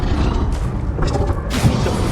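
A Bombarda blasting spell goes off in Hogwarts Legacy, a short burst of rumbling, crackling magical impact noise amid ongoing combat effects, fairly loud and dense, with a brief voice over it.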